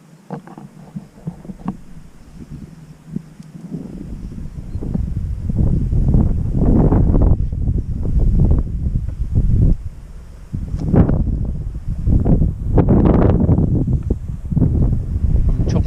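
Wind gusts buffeting the microphone at a fishing lake, loud rumbling surges rising and falling in repeated blasts after a quieter start, with no voices.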